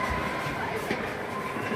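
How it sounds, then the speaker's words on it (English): A steam train heard from on board gives a steady, loud mechanical rumble and hiss that runs unbroken through the short moment, with no voices clearly standing out. "This is a steam train."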